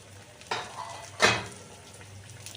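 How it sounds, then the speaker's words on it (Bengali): Long bean (borboti) fritters fry in oil with a soft, continuous sizzle, broken by two brief scraping bursts of a utensil against the pan. "এই দেখো লাল লাল করে একটু ভেজে নিচ্ছি"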